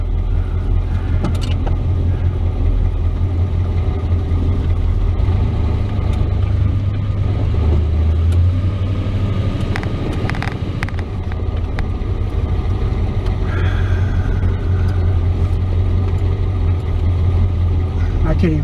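A Chevrolet S10 with solid motor mounts idles smoothly, a steady low engine hum under a voice talking, with some cabin rustles and clicks.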